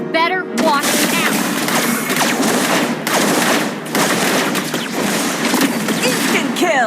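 Rapid bursts of energy-rifle fire from the hero Layla in a mobile battle game, dense and loud almost throughout, with repeated volleys and brief dips between them.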